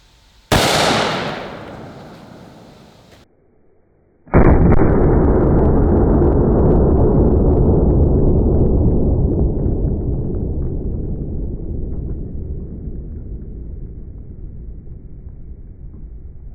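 A Desert Eagle .50 AE pistol fires Underwood Extreme Hunter rounds outdoors: a sharp, loud crack, then after a few seconds a second heavy blast whose booming echo rolls on and fades slowly.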